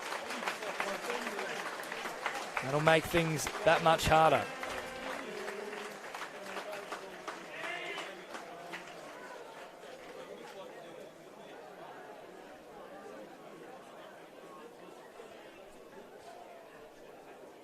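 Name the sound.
applause from football crowd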